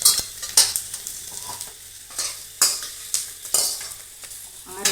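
Pirandai (adamant creeper) sautéing in a pan, with a continuous sizzle broken by sharp rhythmic scraping strokes of a spatula about once a second, up close.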